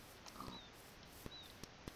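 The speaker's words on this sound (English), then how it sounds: "Oh, there's a piggy." A pig in a video game gives a few faint, short grunts against a quiet background.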